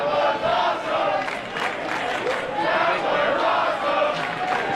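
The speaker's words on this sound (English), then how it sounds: "The crowd going wild for these two athletes in the ring here" A large crowd at a Junction City Wrestling championship match cheers and roars loudly and continuously, with shouts rising above the steady din of the packed arena.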